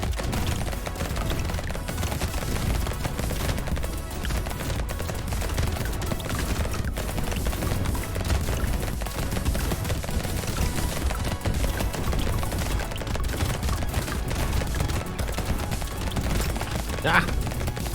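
Rapid, continuous bursts of shotgun fire from the video game Brotato, dense and sustained for the whole stretch, mixed with game music and effects, with a voice talking over it.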